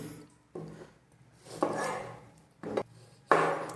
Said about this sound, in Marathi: 2 आपल्याला मीडियम आकाराचे टोमॅटो ते कापून घ्यायचे